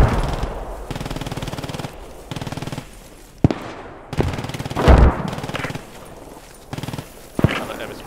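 Enemy machine gun in Squad 44 rattles in repeated sustained bursts, loud and close, separated by short pauses, with a few sharper single shots and distant gunfire mixed in.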